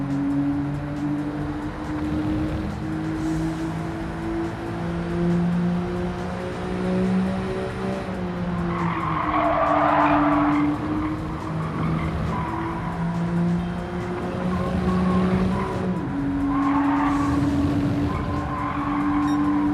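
A Mitsubishi FTO drives in Gran Turismo 7, its engine droning steadily and shifting pitch as tires squeal in long skids, loud and continuous with no talking.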